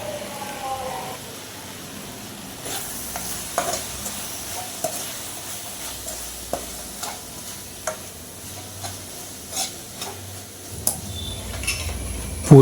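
Gongura and chicken paste being stirred in a pan for a Telugu gongura chicken recipe, with soft sizzling under steady scraping and spoon clinks that recur every second or so at close range.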